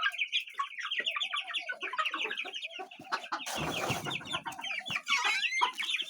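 A flock of chickens and roosters clucks and chatters nonstop nearby, with overlapping calls throughout and a brief burst of rustling or wing flapping midway.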